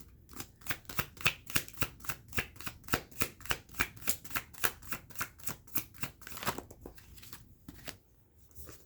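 A deck of tarot cards shuffled close by, a rapid steady run of crisp riffling slaps lasting several seconds before trailing off, quiet and alone.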